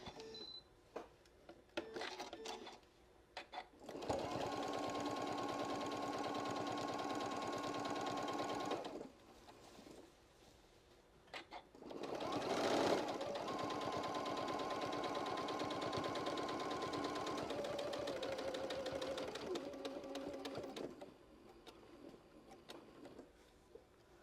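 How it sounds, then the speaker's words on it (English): A sewing machine stitches fabric for a casserole cozy in two long, steady runs of rapid mechanical whirring, separated by a short pause with faint handling noises. "now we're going to sew down to the next side"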